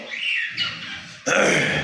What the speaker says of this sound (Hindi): आपको ये मैं हमारी मैना की बातें सुनवा रहा हूँ